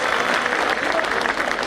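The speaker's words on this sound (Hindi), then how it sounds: "जोरदार ताली एक बार।" A crowd at a public address claps loudly and continuously, dense applause filling a short burst with no talk.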